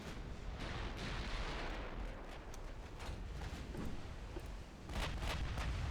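Heavy naval guns boom in a battleship fight in Ultimate Admiral: Dreadnoughts, with big 16-inch turrets among them, giving a steady roll of deep gunfire and blasts with sharp bursts near the end.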